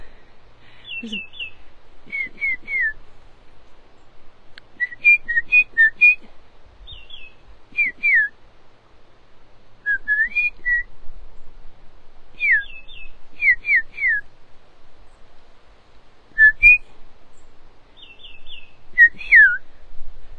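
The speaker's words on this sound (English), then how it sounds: "I love getting into little conversations with birds." Songbirds and a person trade whistled calls outdoors, clear bright phrases repeating in short bursts with pauses between, the human whistling answering the birds back and forth over about twenty seconds.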